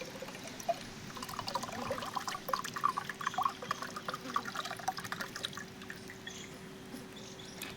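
Coconut water pours from a cracked coconut in a steady, close trickle with a soft splashing texture that thins out toward the end.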